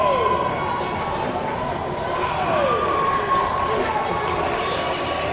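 Crowd cheering at a men's college basketball game in overtime between UDC and Slippery Rock, a steady roar of voices in a gym with squeaking sneakers, heard beneath a commentator's talk.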